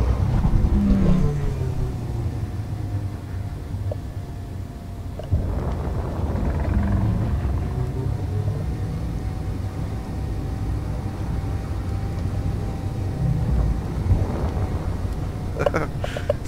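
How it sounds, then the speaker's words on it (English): A small, fast remote-controlled vehicle hums steadily at a constant engine pitch, shifting slightly as it moves, with someone talking over it throughout. "I love this vehicle because it's so small and very fast and very good to control."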